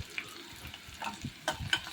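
Onions sauté in a pan for sambar rice, a faint, quiet sizzle with soft scraping stirs and occasional light clinks of the utensil.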